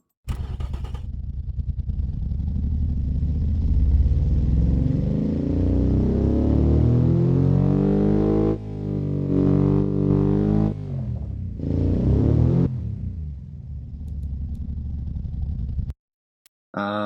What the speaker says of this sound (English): So here we have our engine.